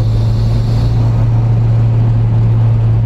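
A 1991 Toyota Celica Turbo 4WD on the road, its engine droning at a steady low pitch under constant road and wind rumble from inside the cabin, with no clear revving.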